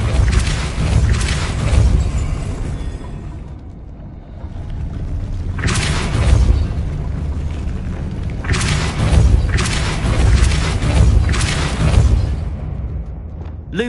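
Depulso force spells cast in Hogwarts Legacy land as repeated heavy booms and thumping blasts. The loud bursts come every few seconds over a constant rumbling game background.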